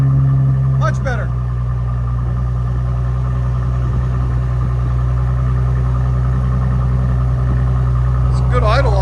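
A 2018 Mercedes E400 with a 3.0L twin-turbo V6 and straight-pipe exhaust idles steadily, a deep constant drone throughout with brief faint blips near the start and end.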